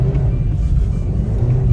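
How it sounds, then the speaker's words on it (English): A car engine with 165,000 miles on it, due for a clutch job, drones and rumbles steadily as the accelerator is pressed and the revs climb, close and fairly loud without any talking. "and the revs go up"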